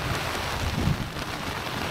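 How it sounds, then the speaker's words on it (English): Rain and wind lash around a tent at a lochside campsite, a steady dense hiss of falling drops with low gusting rumble, no voices. "I retired to the tent and just listened to the rain and the wind lashing around the loch and around the campsite"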